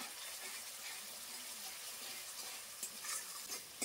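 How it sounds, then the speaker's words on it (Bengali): Spice paste with sour yogurt stir-fried in a pan, a steady low sizzle with occasional clinks and scrapes of a spoon toward the end, faint and nearby. "টক দই দিয়ে ভালো করে আরেকটুখানি কষিয়ে নেব মশলার সঙ্গে"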